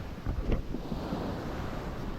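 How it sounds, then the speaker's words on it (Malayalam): Sea waves surging onto the shore and flooding inland, a rough, rushing wash of surf mixed with gusting wind noise, with one louder surge near the start. "എല്ലാം നല്ലപോലെ വെള്ളം അടിച്ച് കയറുന്നുണ്ട്"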